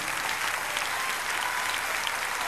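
A concert crowd applauds the performers, with thick continuous clapping that holds at an even, loud level throughout.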